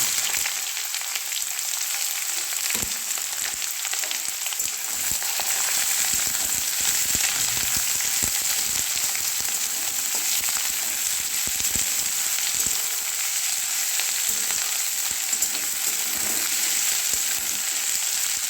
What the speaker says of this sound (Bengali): পেঁয়াজগুলো ফ্রাই হচ্ছে।